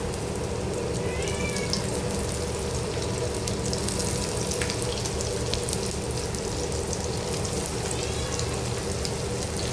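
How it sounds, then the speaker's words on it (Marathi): Fish frying in hot oil produces a steady, dense crackle and hiss that holds an even level throughout, with no talking. "राहिलेली मच्छी मी पुन्हा तेलामध्ये सोडते"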